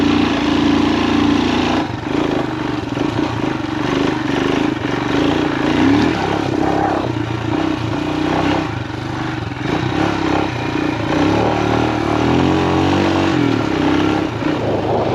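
A Royal Enfield Himalayan 462 big bore motorcycle engine drones steadily while being ridden on country roads, its loud continuous rumble and clatter shifting slightly in pitch with throttle and wind noise throughout.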